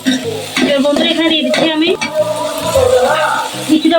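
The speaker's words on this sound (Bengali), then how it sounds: "মাংসটা একটু কষিয়ে নিচ্ছি আমি" Meat sizzles while being browned and stirred in a pan for fried rice, a close crackling fry with scraping stirs, and a person talks over it throughout.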